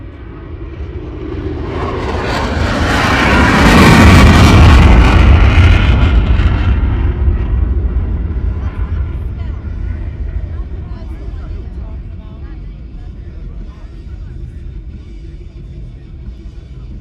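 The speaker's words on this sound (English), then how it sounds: "F-35 Lightning ripping through the skies of Central Ohio right now." An F-35 Lightning fighter jet takes off at the Columbus, Ohio airshow, its engine roar building to a loud, crackling peak and then fading into a long rumble as it climbs away.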